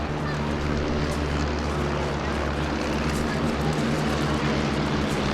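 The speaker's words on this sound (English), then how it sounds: "And now the rest of the team, 2, 3 and 4, giving you a wonderful waving pass by." Stampe biplanes of a formation team sweep past at Eastbourne Airshow, a loud, continuous propeller-engine drone that fills the whole stretch without breaks, with no clear voice above it.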